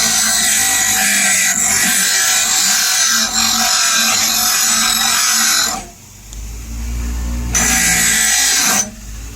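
A grinder scrapes surface rust off the kickstart of a 1973 Honda CL450, a loud, harsh whir that runs steadily, dips into a low rumble near the middle, then flares up again before stopping.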